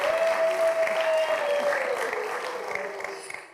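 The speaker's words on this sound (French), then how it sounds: "On applaudit pour ça" Audience on a TV talk show applauding: a steady, continuous wash of clapping that fades slightly over about three and a half seconds, with a brief sustained tone near the start.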